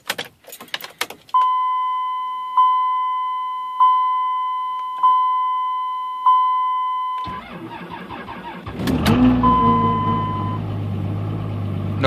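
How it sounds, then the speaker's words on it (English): A 2003 Dodge Cummins diesel pickup cold-started without grid or block heater: keys jingle and a warning chime beeps steadily several times, then the starter cranks and the engine catches into a loud, rough idle. "2003 Dodge Cummins cold start."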